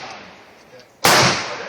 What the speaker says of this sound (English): We got some ammo for the Tokarev. So we're going to take some first shots, see how it goes.